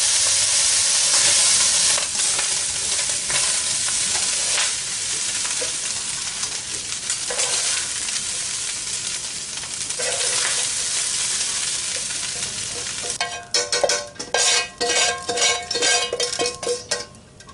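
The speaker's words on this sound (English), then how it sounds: "So if you wanted to do the hamburger in 2 separate batches when you brown it." Hamburger meat browns in a pan for homemade chili, a loud, dense sizzle and hiss that runs steadily, then turns choppy near the end with rapid stirring and scraping bursts, close up and without talk.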